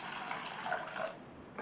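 Water pours from a cup into soaked split moong dal with a pinch of turmeric for a Tamil pudalangai poricha kootu, a brief steady splashing close by with no talk.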